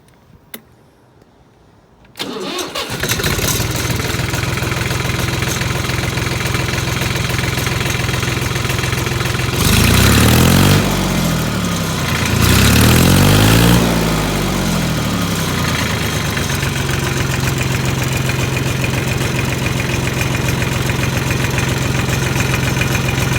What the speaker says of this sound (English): I'll start the tractor up for you guys